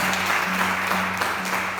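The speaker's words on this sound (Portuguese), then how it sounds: "Se você crê, aplaude esse Deus em nome de Jesus." Church congregation applauding steadily, a dense wash of many hands clapping at moderate loudness throughout, with a faint hum beneath.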